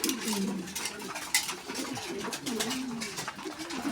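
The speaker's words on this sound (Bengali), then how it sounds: "আমার কাছে সব কালারের কবুতরে আছে।" Pigeons, including a red checker male, cooing steadily at a pigeon dealer's loft, with soft overlapping low coos running throughout at close range amid a faint background murmur.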